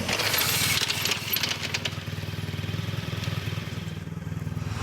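Honda Crosstourer motorcycle engine running steadily during a braking test with ABS on, a loud, close, continuous low drone that eases slightly after the first second, heard alone without talk.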